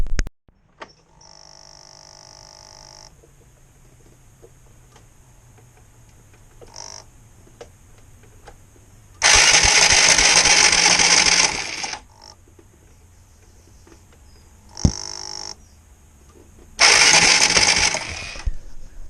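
Motorcycle starter motor cranking the engine slowly and intermittently, two loud whirring bursts of a few seconds each separated by quiet pauses and short clicks of the starter button.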